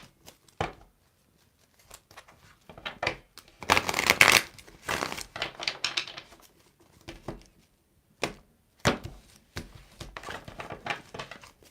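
Tarot cards shuffled in several quick riffling bursts separated by short pauses, close and crisp, with no talking.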